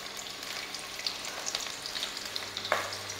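Onions with mustard seeds fry in mustard oil for Punjabi-style dal wadiyan, a continuous close hissing sizzle broken by light stirring ticks, no one speaking.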